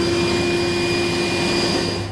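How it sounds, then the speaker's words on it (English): A vacuum cleaner roars steadily and close, sucking up metal shavings left from drilling in the bed of a 2016 Chevrolet pickup during a fifth wheel and gooseneck wiring harness installation. "We'll just vacuum that up."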